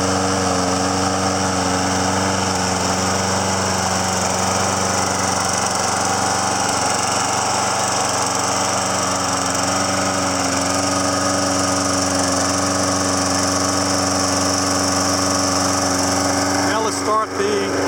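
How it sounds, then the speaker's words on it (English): A Toro Recycler 22-inch lawn mower engine runs steadily and loudly nearby at an even, droning pitch for the whole stretch, with a faint rattle near the end. "The more this runs, the better it has run."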